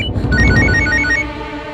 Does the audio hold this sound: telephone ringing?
yes